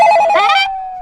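A telephone rings at night in a home: one short, loud electronic trill that cuts off, then a faint restart.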